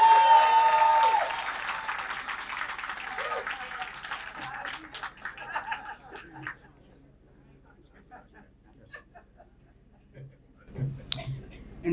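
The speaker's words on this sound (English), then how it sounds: "But watch the applause he gets when I say, "Welcome, Charlie Berman!"" Crowd applause welcoming a tax receiver at an outdoor street naming event, loud dense clapping that fades gradually over several seconds into scattered claps and murmuring, with a voice at the end.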